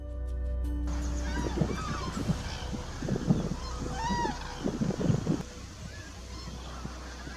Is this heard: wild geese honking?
yes